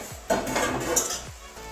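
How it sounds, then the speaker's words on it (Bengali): A metal pan lid clatters on a cooking pan while kalmi greens fry, with sharp clinks and scraping over a low sizzle, close and alone. "আবারও ঢাকা দিয়ে দিচ্ছি আবারও ঢাকনা খুলে নিচ্ছি"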